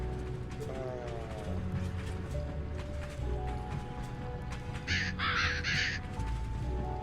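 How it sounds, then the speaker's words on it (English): Crows caw repeatedly in the video game A Hat In Time, a few loud bursts standing out over a steady ambient game background with faint clip-clop and mechanical noises. "Have you noticed all these crows around the place?"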